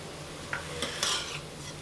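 Carrot halwa roasting in ghee, with a steady soft sizzle under a few scraping stirs of a spoon against the pan, close and quiet.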